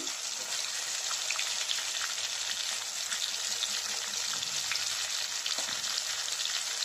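Chopped tomatoes frying with salt in a pan give a continuous bright, hissing sizzle that holds at an even level from start to finish, close up and uninterrupted, with only faint scraping underneath.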